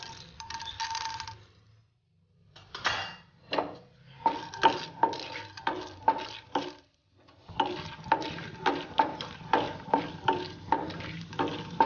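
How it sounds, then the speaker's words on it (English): Chana dal frying in hot oil with red chilies and hing, heard as rhythmic scraping and tapping of a spoon stirring in a pan over a soft sizzle, in uneven bursts with short pauses. "And the oil heats up, we'll add some chana dal."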